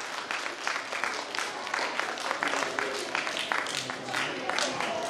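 A school jubilee audience applauds guest Mr. Pradeep Mitra with dense, continuous clapping that stays full and steady, the crowd sound filling the room with faint murmurs mixed in.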